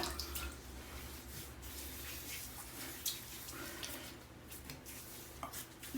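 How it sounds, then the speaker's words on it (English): A bathroom sink fills steadily from the tap before a head shave, a soft, continuous rush of water with faint clinks, heard quietly up close. "I'm going to go ahead and fill my sink a little bit more"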